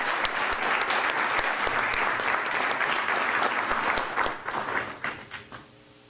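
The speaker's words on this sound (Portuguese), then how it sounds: "Uma salva de palmas para o comendador" Dense applause fills a hall at a heraldry society's closing ceremony for a commendator being decorated, steady for several seconds before breaking into scattered last claps and fading out.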